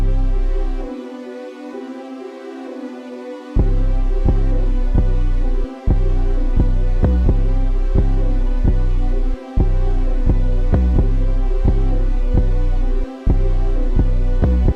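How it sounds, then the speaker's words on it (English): Deep 808 bass pulses over sustained chords in a GarageBand iOS remake of an instrumental, entering after a few seconds and repeating in a steady rhythmic pattern with brief dropouts, loud and upfront. "Alright, after that we had the 808."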